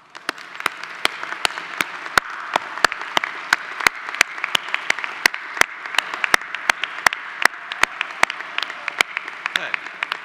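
Sharp, evenly spaced claps ring out over a low murmuring crowd at a graduation recognition ceremony, sounding like a small gathering applauding steadily.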